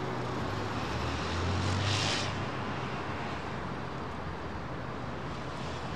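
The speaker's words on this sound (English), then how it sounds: "regardless of how many jumbos there are, you just cannot get bored of them" A jet airliner passes at London Heathrow Airport at sunset, a broad rumbling engine roar that swells to a peak early on and then fades into a steady distant drone.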